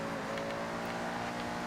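Engine noise from cars driving in Forza Horizon 6, a steady loud motor drone held without pause over a short stretch.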